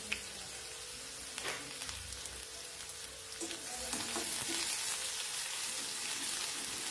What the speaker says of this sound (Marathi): कांदा पण आपल्याला तेलावर छान परतून घ्यायचा आहे